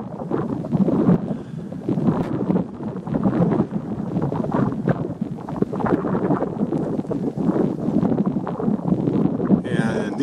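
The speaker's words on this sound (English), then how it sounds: "It's a little breezy up here." Steady wind gusts buffet the microphone on a high mountain trail in the Indian Peaks Wilderness near Arapaho Glacier, rushing loudly and continuously throughout.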